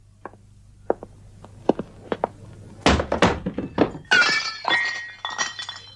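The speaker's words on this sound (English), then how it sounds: "Sorry, have I broken it? Only a glass, and it was empty anyway." A drinking glass knocked over and breaking as a radio comedy drama sound effect, with several light thunks and clinks before a louder crash and scattered glassy tinkles, close and clear.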